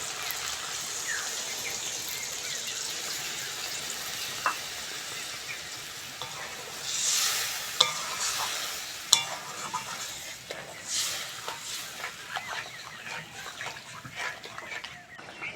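Curry spices simmering in a pan after water is poured in, giving a steady soft sizzle and bubbling with occasional clinks and stirring scrapes, at moderate level with no voices.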